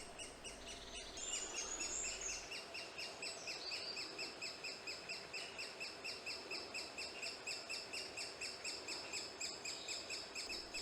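Woodpecker chicks call from their nest in the Tamar Valley, a steady rhythmic chatter of repeated high peeps that pulses evenly throughout, faint and a little distant, with no voices.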